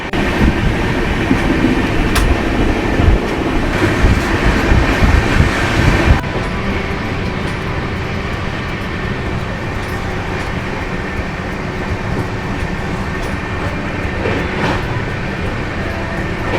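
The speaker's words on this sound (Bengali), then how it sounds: "একশো 27 কিলোমিটার স্পিডে আমাদের ট্রেন এখন যাচ্ছে" The Howrah Ahmedabad Superfast Express runs on rails at speed near Baroda. A loud, continuous rumble and rattle of wheels and carriages is heard, and the sound drops slightly in intensity partway through.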